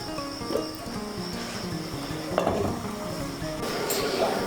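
Fried lentil dumplings are stirred into a simmering gravy in a pan. A utensil clinks and scrapes against the metal over a low, steady sizzle.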